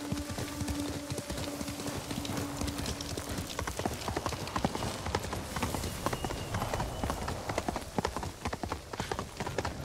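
Hooves of a horse galloping in Ghost of Tsushima beat out a steady clip-clop rhythm, close and continuous throughout, over a faint wash of game ambience with a brief tonal hum at the start.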